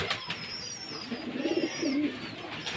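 Pigeons coo indoors in a loft, two low rolling coos in the middle of the stretch, close and moderately loud, with faint higher chirps and room noise around them.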